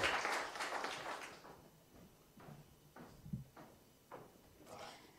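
An audience at a grant award ceremony bursts into dense applause for the recipients, which then thins into a few scattered claps and fades away.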